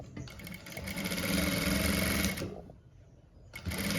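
A sewing machine stitches a facing piece for a girl's frock, running loud and steady for about two and a half seconds, pausing briefly, then starting again at the end.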